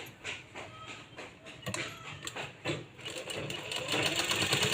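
A sewing machine stitches a small baby cap from fabric, running in uneven stuttering bursts with rapid clattering that gets busier and louder toward the end, close and fairly quiet overall.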